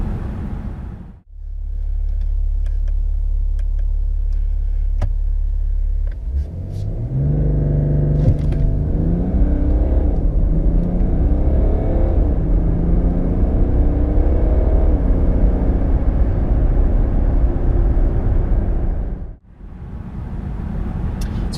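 A 2018 BMW 730d xDrive sedan idles, then accelerates hard from a standstill to 62 mph, its diesel engine rising in a steady loud roar with smooth upward sweeps through the gears before the rush cuts off.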